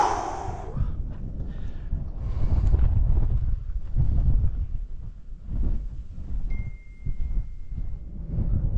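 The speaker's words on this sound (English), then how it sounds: "It's a little windy up here." Gusty wind buffeting the microphone in low rumbling bursts on a high lookout near Lake Havasu City, Arizona, loud and close, with a faint tone briefly in the background.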